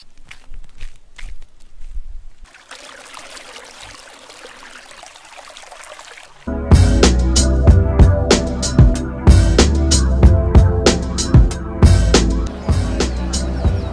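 Flowing water recorded outdoors in the field for film sound effects: a quiet trickle and rustle at first, then a louder, dense rush of running water with splashy, irregular bursts continuing to the end.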